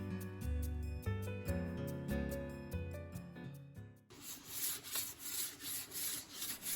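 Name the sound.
sandpapering a goosefoot root for a walking stick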